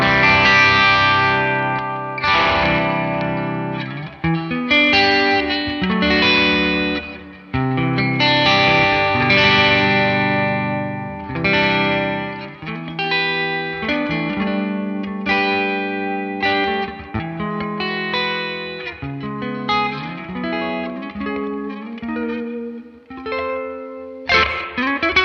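Electric guitar played through a Neural DSP Morgan amp plugin with chorus-like effects: a continuous run of chords and lead lines, loud and saturated, with no talking over it.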